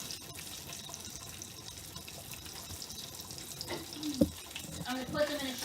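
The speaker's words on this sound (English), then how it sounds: "I'm going to put them in a strainer and let them strain out over with some strain. Get that water off so they'll stop cooking." Water from boiled potatoes pours into a strainer in a kitchen sink, a steady close rushing and splashing with a few sharper clanks near the end.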